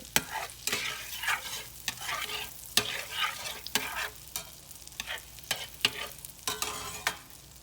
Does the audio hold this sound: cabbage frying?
yes